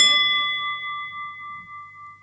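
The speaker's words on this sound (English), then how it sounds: "Please don't ring that bell." A single bell struck once, its bright metallic ding ringing out with steady overtones that decay slowly over about two seconds, heard alone with no voices.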